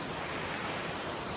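Water tumbling down a mountain waterfall on the Big Beehive hike near Lake Louise in Banff, a dense, steady broadband rush with no breaks, moderately distant and unaccompanied by voices.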